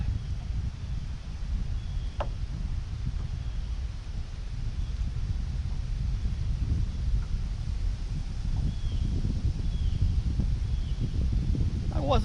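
Gusty wind buffets the microphone at Lake Lanier in bad weather, a loud, low rumbling roar that persists throughout, with some rustling and a voice speaking over it.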